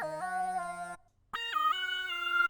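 A bright synth lead for a rage beat steps through a short melody in two phrases, separated by a brief gap, with clean sustained tones and no voices.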